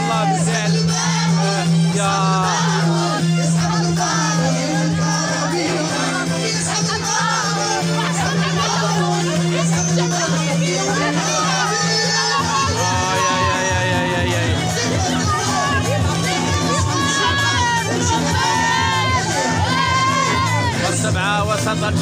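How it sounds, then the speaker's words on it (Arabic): Huge street crowd in Kenitra, Morocco, celebrating reaching the World Cup semifinal: sustained loud cheering, whoops and shouting voices over a pounding rhythmic drum beat, continuous and close for the whole stretch. "بدات الفرحه والهستيريا في الجماهير القنيطريه"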